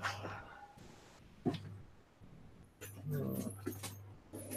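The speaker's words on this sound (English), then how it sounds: "And then I got my dog going crazy because" A dog is excited just after being fed, with yelps and whimpers coming in short bursts through a low steady hum, some jangling like keys or tags, and voices talking over parts of it.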